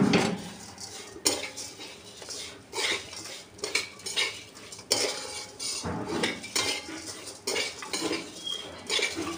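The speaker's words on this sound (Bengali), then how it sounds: "কড়াই বেঁকে যাচ্ছে, নাড়তে নাড়তে বুঝছো।" A metal utensil stirs and scrapes food in a kadai wok, clinking and clattering in irregular bursts, close and fairly loud, with soft sizzling underneath and no talk.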